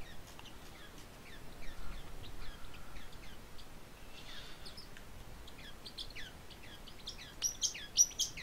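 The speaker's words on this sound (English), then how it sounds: "Oh my god, my bird's being a little snot." A pet bird chirps in short, bright bursts scattered across the room, faint at first and growing louder toward the end, with a few sharp higher notes near the close over a low background hum.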